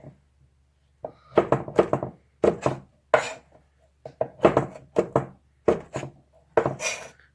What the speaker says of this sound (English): Now you're going to take the shrimp and you're going to cut it into 3 pieces